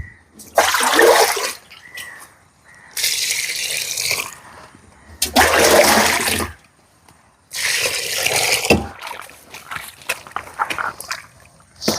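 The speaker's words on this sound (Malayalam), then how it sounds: "അതിങ്ങനെ വെള്ളം പോലെ കലക്കി ഒഴിക്കണം" Diluted cow dung slurry is poured over cabbage plants in a farm plot, four long gushing splashes separated by short pauses, loud and near, with no talking.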